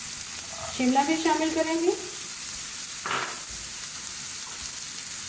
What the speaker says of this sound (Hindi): प्याज को हमने हल्का सा फ्राई कर लिया 1 मिनट के लिए